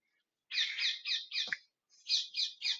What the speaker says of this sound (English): There's some birds here tweeting.